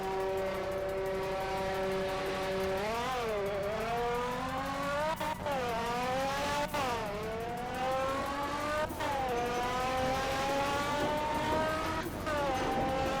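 A Jaguar sleeper car with a 382-horsepower engine launches in the Roblox game Fix It Up, its engine revving up through several rising gear pulls with brief shift drops, loud and continuous.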